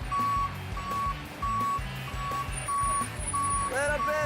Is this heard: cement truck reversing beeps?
yes